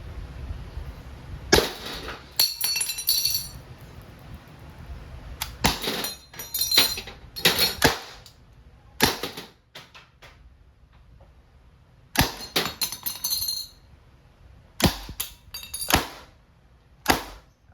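An Umarex T4E TR50 .50-calibre airgun revolver fires rubber balls in a series of sharp, loud pops spread unevenly over several seconds, with quieter handling noise between shots.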